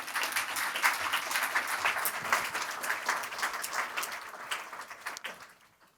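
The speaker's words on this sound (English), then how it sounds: "Round of applause, please" A lecture audience at a university event applauds warmly for a professor being introduced, a steady wash of many hands clapping that tapers off and dies away over the final second.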